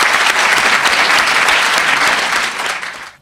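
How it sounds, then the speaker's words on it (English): Audience applause at an artist talk with Wayne Thiebaud, a loud, dense wash of clapping that holds steady for about three seconds before tapering off. "let us please give them a round of applause for their generosity"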